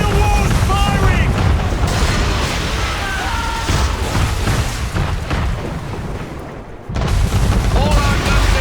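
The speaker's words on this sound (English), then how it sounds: "Man of war's firing!" Heavy cannon from a man-of-war booms in Assassin's Creed 3 Remastered during a naval battle, loud repeated blasts rolling over a rumbling sea-combat bed, with voices calling out between the shots.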